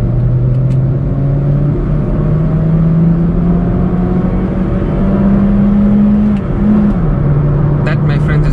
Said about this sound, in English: That, my friends, is VTEC.